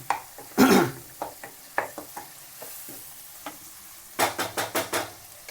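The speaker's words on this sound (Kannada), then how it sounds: "ಈರುಳ್ಳಿ ಮೆಣಸಿಕಾಯಿ ಜೊತೆ ಬೆರೆಯೋವರೆಗೂ ಚೆನ್ನಾಗಿ ಹಿಂಗೆ ಗೂರಾಡ್ರಿ" A spoon scrapes and stirs onion and green chili frying in oil in a pan, producing irregular scraping strokes and then a quick run of rhythmic stirs over a soft sizzle, close up with no talking.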